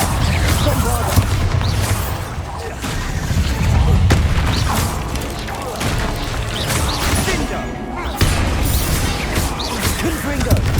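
Bombarda blasting-spell explosions boom amid busy Hogwarts Legacy spell combat, heavy thuds and crashes layered over a constant rumble, with character voices calling out among the impacts.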